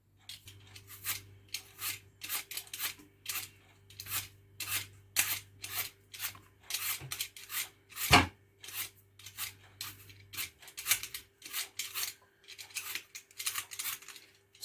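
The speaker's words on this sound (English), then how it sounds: "I'm going to finish peeling all these apples before I take the middle bit out." Apples being peeled by hand in a home kitchen, a steady run of short scraping strokes of blade on skin repeating every half second or so, close and fairly quiet, with a low steady hum underneath for most of it.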